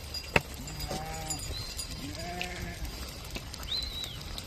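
A flock of sheep and lambs bleats outdoors on a farm, several separate wavering calls at varying distances over a steady background hiss, with a sharp knock near the start.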